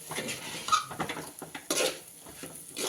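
A utensil clinks and scrapes against a pan in quick, irregular strokes as pepper and chili powder are stirred, heard up close.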